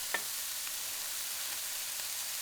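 Chopped poblano chile frying in a pan: a steady, even sizzle with a brief sharp crackle at the start, close and continuous, with no talking.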